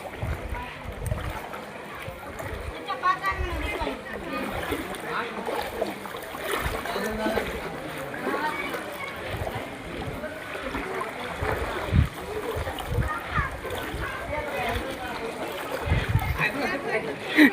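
Footsteps wading through knee-deep floodwater on a Nanded street, splashing and sloshing continuously while voices talk nearby throughout.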